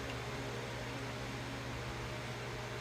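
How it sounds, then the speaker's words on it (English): Electric fan running steadily in a hot room, a constant broadband whir with a low hum, heard alone and unchanging throughout. "if you hear the fan in the background,"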